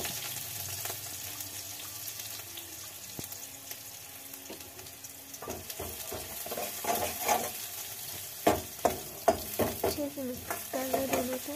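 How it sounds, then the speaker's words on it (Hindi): Chopped onion fries in a pan for aloo manchurian while being stirred, a low background sizzle giving way to close, uneven scraping and clattering strokes that grow louder toward the end, with no speech. "फिर चॉप्ड अनियन डालना है"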